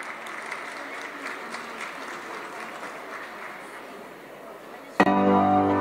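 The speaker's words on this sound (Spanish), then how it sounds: "Fuerte el aplauso" Audience at an aerial arts world championship final applauding steadily after a performer is announced, a sustained crowd clapping that cuts off abruptly into loud pop music.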